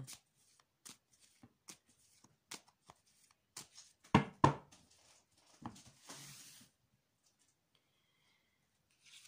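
Tarot cards are shuffled and drawn by hand, a series of soft crisp flicks and riffles with a louder cluster of snaps midway, close and quiet with no talk.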